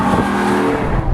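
A naturally aspirated Maserati 4.2 GT Coupé engine revs loud and close in a brief, smooth, steady burst with a rich tonal growl.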